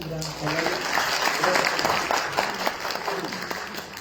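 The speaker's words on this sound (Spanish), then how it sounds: "un voto de aplauso a la directora de Comunicación Social" Applause for a director at a book presentation at UPEA in El Alto, Bolivia: a moderate crowd claps steadily, with voices talking over the clapping throughout.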